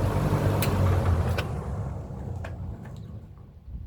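An early 1960s Electrohome Lakewood P-20 electric fan winds down from high speed, its low motor hum and airy whoosh fading steadily over a few seconds, with a few light clicks near the end.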